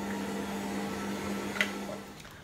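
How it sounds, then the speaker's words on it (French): A food processor mixing waffle batter at speed 2 runs with a steady mechanical hum and whine throughout, a short clink near the end. "Le robot est programmé 20 secondes vitesse 2."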